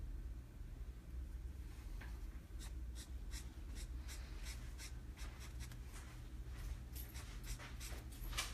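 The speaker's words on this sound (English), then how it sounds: "I got a marker that's about dried up there" A nearly dried-out marker squeaks and scratches across paper while drawing a Darth Maul sketch, a series of short faint strokes in quick rhythm over a low room hum.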